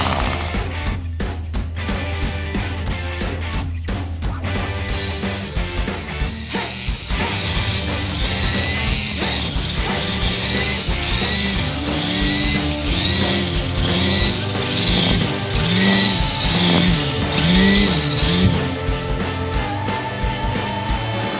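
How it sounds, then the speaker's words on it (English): Gas string trimmer on a farm property: a few sharp clicks and sputters, then the small engine catches and buzzes loudly and steadily nearby, its pitch wavering slightly as it runs. "So I'm going to get to doing some weed eating."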